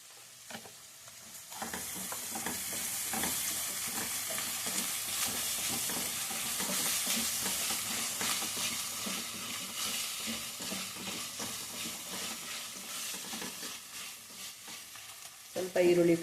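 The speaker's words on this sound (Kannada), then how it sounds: "ಸ್ವಲ್ಪ ಈರುಳ್ಳಿ ಫ್ರೈ ಆಗಬೇಕು." Onions sizzle steadily in a pan with ginger garlic paste for dhaba-style palak paneer, a soft continuous frying hiss broken by faint stirring scrapes, ending with a louder clatter; no talking.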